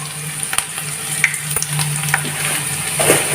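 Green chillies, garlic and fenugreek seeds fry in hot oil with a loud, close, crackling sizzle, punctuated by a few scattered pops and a brief stirring scrape, no speech.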